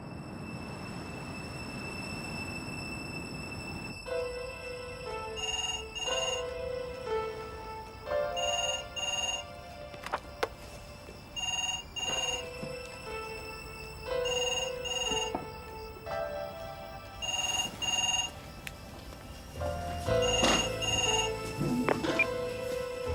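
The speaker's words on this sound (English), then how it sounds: "Neither Helen nor myself can answer the phone right now" Telephone rings repeatedly in bursts with short gaps in between, set against a quiet room background before an answering machine picks up.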